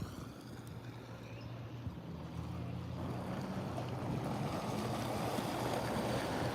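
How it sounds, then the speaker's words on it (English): Wake waves from a passing ferry washing onto a rocky beach, a steady rushing surge that builds and stays loud, with wind noise on the microphone and no talking. "Here come the waves from the ferry."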